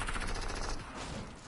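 Rapid automatic gunfire from a pulse rifle in a shooter video game, a dense continuous burst of shots that rattles loudly throughout with no pauses.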